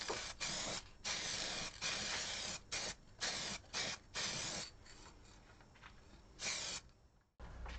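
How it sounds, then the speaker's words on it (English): A can of gloss spray being shaken by hand, giving close, loud rhythmic bursts of rattling that stop and start in quick runs before dying away. "let's get that gloss can shaken."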